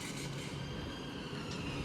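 A train at London Euston station rumbles steadily with low wheel and engine noise and faint metallic squeal, continuous and moderately quiet, with no voices.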